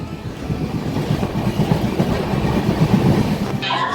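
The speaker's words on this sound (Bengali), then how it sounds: "ট্রেন এসে পৌঁছালো" The Vivek Express rolls along the rails with a loud, continuous rumble and rhythmic clickety-clack of wagon wheels, steady and close, ending in a brief higher rattle.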